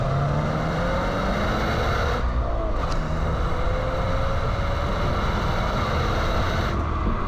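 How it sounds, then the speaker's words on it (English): Exhaust note of a 2022 Subaru BRZ captured by a GoPro mounted on the car, a steady loud engine drone with rising tones as it accelerates, overlaid by road and wind rush. "so you can actually hear what comes out of the exhaust of the BRZ."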